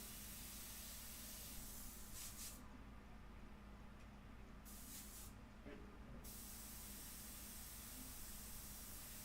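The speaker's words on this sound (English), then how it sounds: "I have my detail mixture in the airbrush right now" An airbrush loaded with an India ink detail mixture sprays in short hissing bursts, with air pressure raised, while a portrait is being painted. The bursts come and go over a steady low background hum.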